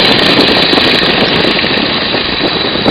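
A Stearman biplane's radial engine runs at idle after being throttled back, a dense, steady low rumble with a constant broadband roar, close and loud, no voices over it.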